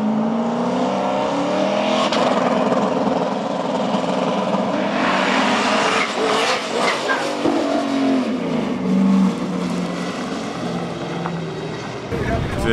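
A drag racing street car launching down the track, a loud engine roar building and sustained, with a hard revving surge midway and a crowd murmuring in the background.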